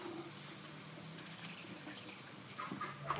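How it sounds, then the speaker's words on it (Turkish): Kitchen tap running in a steady faint splash as hands are washed under it, a few small clinks near the end; no talking. "ben şöyle elimi yıkayayım"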